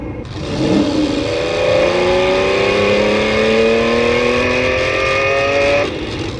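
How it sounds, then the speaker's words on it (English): A small electric motor of a Silverlit RC Ferrari Enzo toy car driving full speed forward whines steadily at high speed, its pitch rising slightly, then cuts off abruptly after several seconds. "go full speed forward so they can hear the motor"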